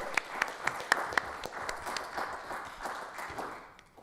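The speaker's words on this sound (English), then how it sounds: "Please, let's give a round of applause for all our readers." Audience at the Powderhorn Poetry Series applauds the readers: a burst of sharp, close claps at first that thins into a softer wash of clapping and fades away.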